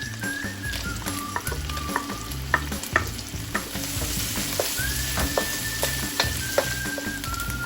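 Steady sizzling of bacon frying in a pan, with scattered clinks and scrapes of stirring, over soft background music.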